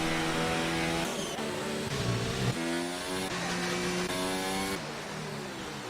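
Race car engines in the F1 2019 video game at the Canadian Grand Prix, loud high-pitched whining engines rising and shifting gear repeatedly, overlapping cars close by and continuous throughout.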